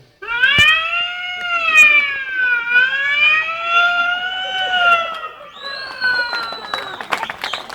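A voice imitates a police jeep siren, a loud, sustained wailing tone that rises and falls in slow sweeps, then shifts higher, ending with scattered clatter.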